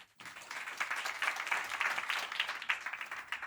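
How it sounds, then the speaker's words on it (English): An audience at the opening ceremony of an investment and market research mission to the Philippines gives a steady, full round of applause to welcome a speaker from the Korean embassy, with many hands clapping densely and evenly throughout. "Please welcome him with a big round of applause."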